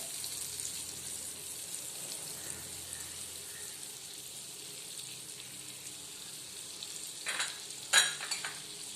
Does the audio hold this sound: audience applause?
no